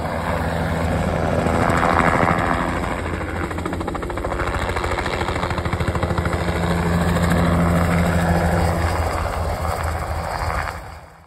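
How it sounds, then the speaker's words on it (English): A crop-dusting helicopter drones loudly and steadily overhead while spraying a soybean field, its rotor chopping continuously with a rough engine roar that fades slightly at the end. "a crew is using a helicopter to crop"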